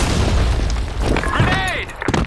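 A grenade blast booms through a Blackshot video game match, a dense rumbling burst under shouted voices, followed by a brief sharp pop near the end.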